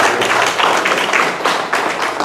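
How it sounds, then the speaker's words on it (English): Audience applause at an NC House District 98 candidate forum, a dense steady wash of many hands clapping at close range that carries evenly through the moment. "Appreciate your applause"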